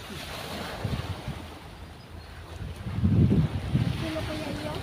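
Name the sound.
rough sea waves and wind at the shore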